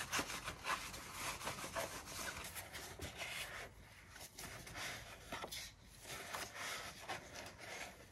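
Wiping and rubbing inside the air filter housing of a Thrust Blitz 115 motorcycle, a steady run of close, soft scraping and brushing strokes with brief pauses, no voices.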